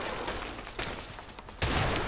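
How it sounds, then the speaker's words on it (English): Shotgun blasts fired in the video game A Way Out, with muffled gunfire rumbling throughout and a sharper, louder burst near the end. "Nice shotgun"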